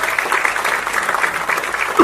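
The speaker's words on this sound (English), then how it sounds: "A big round of applause" Steady applause from an audience at a trailer launch event for the film 800, with cricketer Sachin Tendulkar present, filling the whole stretch with dense clapping.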